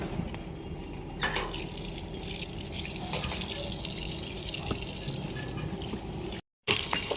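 Steady running tap water for washing feet at a temple visit, a continuous close splashing stream with faint dripping and background murmur, broken by a brief cut near the end.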